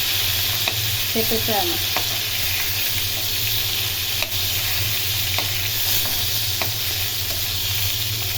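Rui fish pieces flipped and frying in oil in a pan, a steady loud sizzle with occasional light scrapes and clicks, a brief voice speaking over it.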